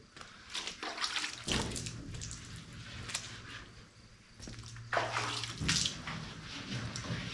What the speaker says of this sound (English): Also trying to wash off some of that comet that's on it.